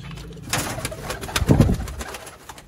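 Sialkoti pigeons coo in low, throaty bursts close by, with a louder rolling coo in the middle of the clip and some faint chirps and rustling around it.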